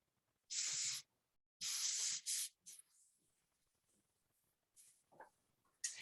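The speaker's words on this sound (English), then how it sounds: "So I'm doing the airbrush right now." An airbrush sprays paint onto a sculpted creature figure in short hissing bursts: two strong sprays, then a few quick puffs and a faint final spurt, close up with quiet gaps and no talking.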